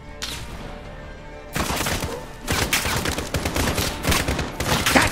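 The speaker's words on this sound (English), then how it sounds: "I'm trying as much of my pistol as I can." Pistol gunfire in Call of Duty Modern Warfare, a quiet stretch giving way to rapid, loud bursts of shots and impacts that grow denser toward the end.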